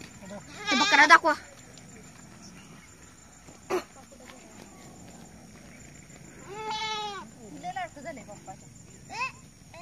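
Goat bleats at a farmyard home in a village: one loud wavering bleat near the start and another drawn-out bleat later, with a brief knock between and voices talking faintly in the background.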